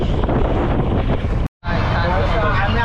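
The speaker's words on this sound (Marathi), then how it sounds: "वारा जास्त उरला" Strong wind buffets a trawler fishing for Bombay duck at sea in stormy weather, a loud steady roar with water and boat noise, cut by a brief dropout midway, with voices partly audible.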